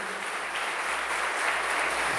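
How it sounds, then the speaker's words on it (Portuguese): A church congregation claps for Jesus during a worship service, steady full-room applause that stays broad and even from start to finish. "Pode aplaudir a Jesus."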